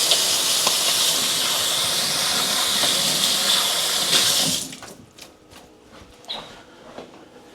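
Tap water runs hard into a sink for several seconds as hands are washed, a loud steady hiss that stops abruptly, followed by faint drips and small handling sounds.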